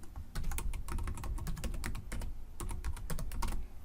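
Rapid keystrokes patter on a computer keyboard as a password is typed, a steady close run of clicks with brief pauses and no talking.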